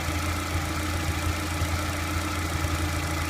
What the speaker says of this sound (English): With everything back together, I'm running the engine and bleeding out any air from the coolant.